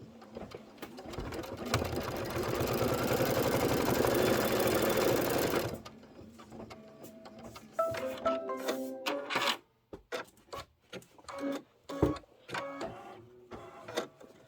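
An embroidery machine sews a placement stitch at a rapid, steady mechanical rate for several seconds, then stops, leaving intermittent clicks, short whirs and handling noises.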